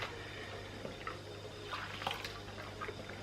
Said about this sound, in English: Obviously I know water's washing back through it